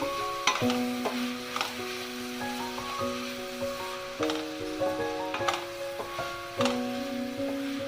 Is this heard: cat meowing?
no